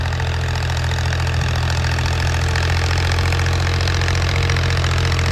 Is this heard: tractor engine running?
yes